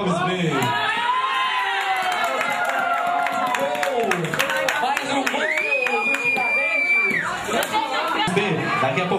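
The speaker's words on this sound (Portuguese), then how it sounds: "Que torcida mais linda essa torcida do Castro Alves B" Supporters of the Castro Alves B youth football team at a Copa Coca-Cola match in Fortaleza cheer and shout, with whistles, claps and children's voices in a loud, continuous crowd roar.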